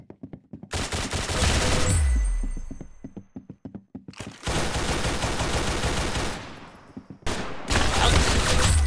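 Roblox Arsenal gunfire comes in loud bursts: rapid machine-gun-style shots start, fade into spaced single cracks, then two more dense, sustained volleys follow after brief gaps.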